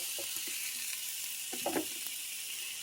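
Chicken piccata cutlets frying in a pan give a steady, even sizzle with faint scattered pops and a few soft utensil clicks, heard alone with no talking.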